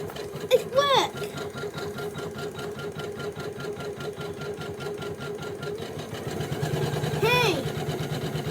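A Janome Memory Craft 500e embroidery machine stitching at a steady rapid whir with rhythmic needle chatter, close and continuous, with brief voices and a short beep near the start and end.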